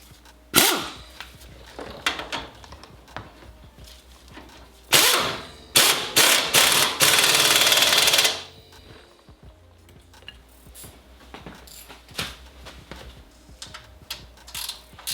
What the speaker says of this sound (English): Go ahead and bust that lower nut on there